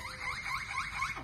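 A pet parrot imitates a car alarm with a short run of repeated warbling siren sweeps. The call is faint and brief.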